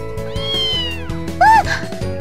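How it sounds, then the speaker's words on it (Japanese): A cat meows clearly in the To Love-Ru Darkness video game, with one rising cry followed by a shorter, louder meow, set over soft background music. "その猫、小手川のことが好きなんじゃないか？"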